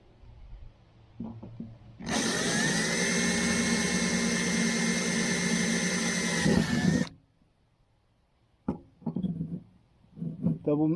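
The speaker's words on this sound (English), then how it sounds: "So now I'll put that on my drill. I'll drill each of these 3 out." A power drill whirs loudly and steadily for about five seconds while drilling out screws on an old aluminum boat, spinning down at the end, with light clicks and handling noises before and after.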